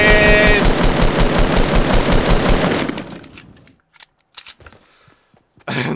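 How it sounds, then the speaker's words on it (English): Rapid automatic gunfire in Fortnite rattles loud and close for about three seconds, then cuts out, leaving faint scattered clicks and taps before a brief burst of noise at the end. "I'm gonna shoot you in the face!"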